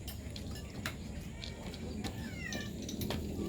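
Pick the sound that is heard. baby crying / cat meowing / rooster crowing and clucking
cat meowing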